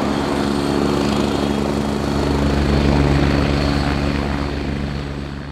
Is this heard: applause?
no